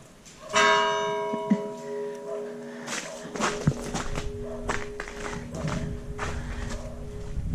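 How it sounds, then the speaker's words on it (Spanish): A church bell rings out with a sharp strike and long ringing overtones, followed by quieter clanks and taps in the still, open silence of a snowbound village in northern Palencia, Spain. "El sonido de la campana aquí en el silencio ensordecedor del pueblo."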